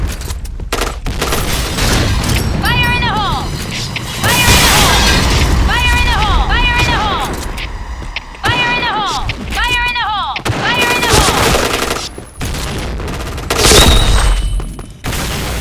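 Gunfire in the shooter game Point Blank crackles in repeated bursts and single shots, with chirping game effects between volleys and a voice talking over the action.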